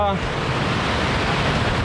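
A high mountain river in Tusheti, Georgia, rushes loudly and steadily in a continuous broadband roar close to the microphone, with no voices heard.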